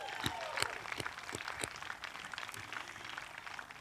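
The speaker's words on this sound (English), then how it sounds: "So let's give them a big round of applause." Outdoor crowd at a park concert applauding sponsors, with scattered hand claps and a few whoops spreading across a moderate, somewhat distant ovation that stays steady throughout.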